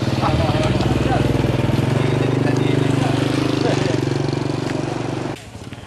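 A motorcycle engine idles close by in a village setting, a loud steady mid-pitched putter that cuts off near the end, with people talking over it.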